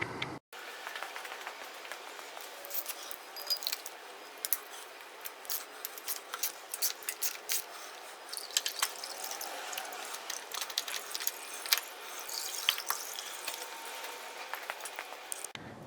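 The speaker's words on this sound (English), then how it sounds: "So we'll go ahead and remove the oil filter." An oil filter is worked off a Harley-Davidson Softail with a cutout filter wrench. Close, intermittent scraping, rubbing and ratcheting clicks run throughout, with no talking.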